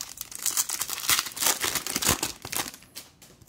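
Crinkly foil wrapper of a Topps Series 2 baseball card pack being torn and crumpled open up close, a few seconds of bursty tearing and rustling with no talking.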